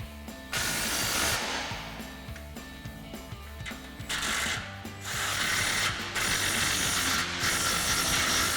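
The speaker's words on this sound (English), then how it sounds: "Now we can go ahead and tighten our flange bolts down with our 14mm socket." A hand ratchet with a 14mm socket tightens exhaust flange bolts on a Toyota Tundra, giving close, rapid clicking in several bursts separated by short pauses.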